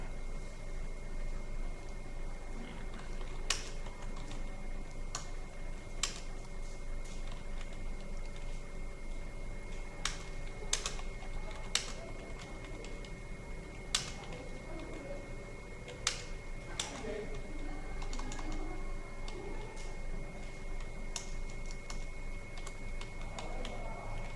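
Occasional isolated key presses on a computer keyboard, including single taps of the Tab key while formatting a document, sound as sparse faint clicks over a steady background hum.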